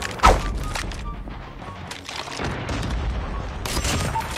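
Sniper shots ring out in Call of Duty Mobile in a headshot-only match, with a sharp, loud crack near the start and scattered gunfire and impacts after it. No one talks.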